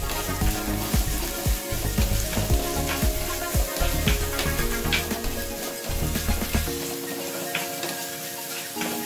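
Onion frying in a pan for buttermilk moru curry, a steady dense sizzle with scattered crackles and occasional stirring scrapes, close and continuous, easing off near the end.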